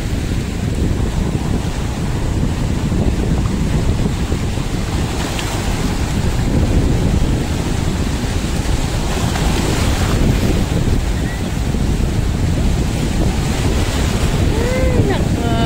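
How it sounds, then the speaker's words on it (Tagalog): Large ocean waves surge and crash continuously on the coast at Calatagan, with heavy wind buffeting the microphone throughout; no clear talking. "Ang lalaki ng alon."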